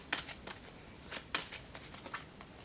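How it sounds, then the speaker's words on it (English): A deck of tarot cards is shuffled by hand, giving rapid, close crisp riffles and flicks in uneven bursts, with no talking. "I'm going to shuffle these and see which one wants to be here."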